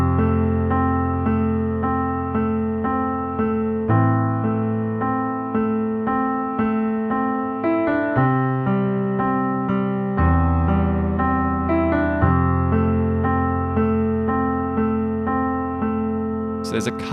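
Solo piano plays the second four bars of the verse of a song, steady sustained chords with a moving bass line, clear and close, with no talk.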